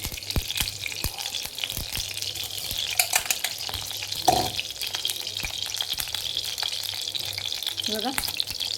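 Two spoons of ghee sizzle steadily in a kadhai on a gas stove, a continuous close frying hiss with frequent light clinks and taps of a spoon against the pan.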